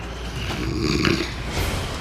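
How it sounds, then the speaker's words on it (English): Manny, a man, snores loudly and close by, giving one long, rough, rumbling breath that swells and then fades, heard alone. "Manny's snoring is so loud that I cannot get any sleep"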